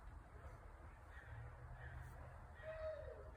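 Birds, crow-like caws among them, call faintly beside a creek over a low outdoor rumble, with a few quiet calls scattered through and some soft talk nearby.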